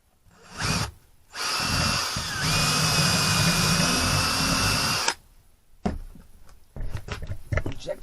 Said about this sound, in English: Drill another hole over here.